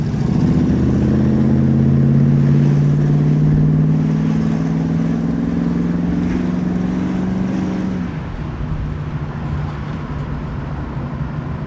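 A 1965 Ford Mustang pulls away under throttle, its engine note rising steadily and loud for about eight seconds before easing off into a lower steady drone as it cruises on, with no talk.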